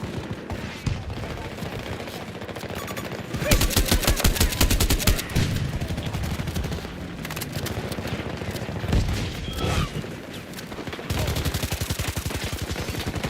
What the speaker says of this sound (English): Give me cover fire!